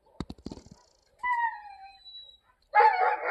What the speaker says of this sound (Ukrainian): Собака сусідський співає